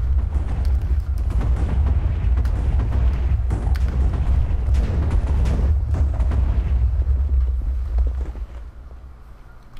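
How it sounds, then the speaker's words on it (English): A long, loud rumbling blast from a giant Minecraft TNT explosion, with crackling debris and repeated thuds, fading out near the end into quieter rumble. "That creates a giant explosion."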